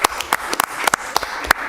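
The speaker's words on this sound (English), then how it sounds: "All right, you can clap for that." Sparse claps from a small council meeting audience, scattered over a couple of seconds, fairly close, with no talk over them.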